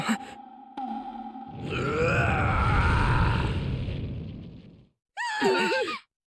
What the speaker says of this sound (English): That's the roar of a demon.